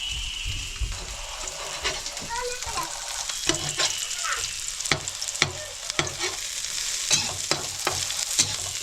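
Onions fry in a pan with a constant sizzle and repeated sharp stirring scrapes and clinks, while people, including a child, talk intermittently nearby.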